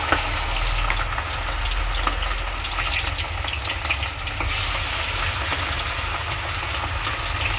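Quail pieces fry in oil over a medium flame for quail 65, giving a loud, dense, continuous crackling sizzle close by with no one talking.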